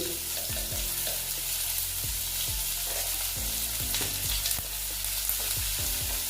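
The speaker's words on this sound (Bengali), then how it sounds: "পেঁয়াজ কুচি দিয়ে একটু ভেজে নিচ্ছি" Chopped onions fry in hot oil in a pan for a Bengali boal fish curry, giving a steady close sizzle with repeated scraping stirs at a regular rhythm throughout.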